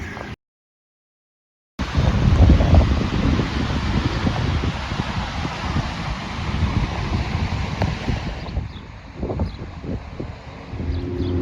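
Wind blows outdoors against the microphone, a steady rushing roar that starts after a brief gap of silence and continues loud and close, easing slightly near the end.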